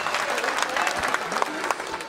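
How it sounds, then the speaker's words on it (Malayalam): Loud, sustained applause from a comedy show audience, many hands clapping together in a dense steady roar with a few sharper claps standing out, close and filling the room. "ഒരു നല്ല കൈയടി പൊട്ടട്ടെ."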